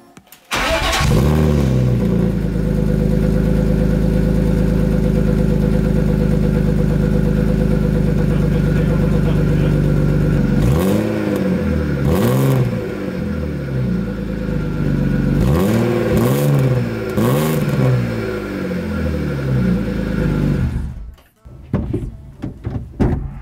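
A car starts for the first time after an engine swap, then idles loudly and steadily close by before several revs rise and fall, and the engine cuts off near the end.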